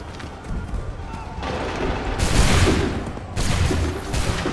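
Soldiers fire a musket volley in Assassin's Creed 3 as a loud, crackling burst of shots that swells and rolls, with a second blast following shortly after, over a busy battlefield.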